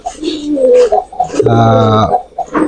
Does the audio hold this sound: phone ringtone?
no